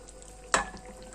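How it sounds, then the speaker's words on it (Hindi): Mutton dropped into hot ghee in a wok for a karahi dish, giving one sudden sizzling splash that quickly settles into a soft, fading fry, close and moderately loud. "यहाँ पर गोश्त मैंने घी के अंदर डाल दिया है"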